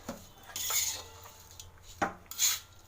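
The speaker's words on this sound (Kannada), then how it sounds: "ರೈಸ್ ಹಾಕಿ ಸ್ವಲ್ಪ ಮಿಕ್ಸ್ ಮಾಡಬೇಕು ಚೆನ್ನಾಗಿ ಮಿಕ್ಸ್ ಮಾಡ್ಕೋಬೇಕು" A utensil scrapes and clinks against a pan while rice is mixed for jeera rice, giving a few close, soft scraping strokes with two brighter metallic clinks and no talk.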